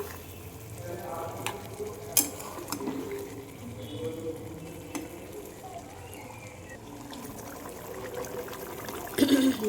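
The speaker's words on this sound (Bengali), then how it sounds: "কড়াইয়ের মধ্যে মিক্স করছি।" Chicken sizzles and fries in a wok while a utensil scrapes and stirs at irregular intervals, with occasional sharper knocks.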